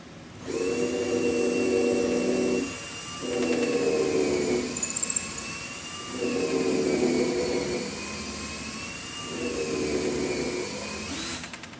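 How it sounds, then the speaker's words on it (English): A steady, loud whirring power drill runs in four long bursts with short pauses between, boring pilot holes into 100-year-old oak. "I'm gonna drill a pilot, put one in on each side"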